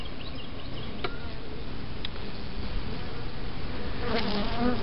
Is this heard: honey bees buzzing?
yes